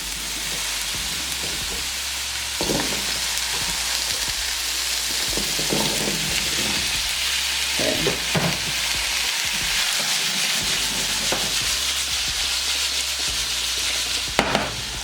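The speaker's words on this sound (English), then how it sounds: "My potatoes into the grease. It's really hot. Be careful, you don't want that grease popping on you." Breakfast potatoes fry in very hot grease, a dense, continuous sizzle with crackles and pops, close and steady, with occasional stirring scrapes.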